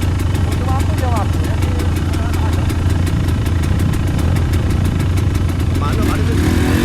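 A motorcycle engine idles steadily and loudly nearby with a fast, even ticking pulse throughout, while muffled voices are heard underneath.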